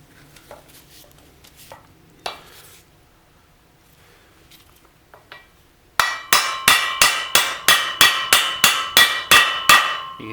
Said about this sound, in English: You can kind of hear the pitch change on the ring of the hammer.